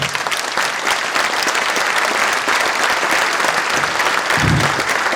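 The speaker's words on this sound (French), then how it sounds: "Je vous demande d'applaudir Serge Lecléo" Dense, sustained applause from a crowd in a hall, steady and loud throughout with no pauses.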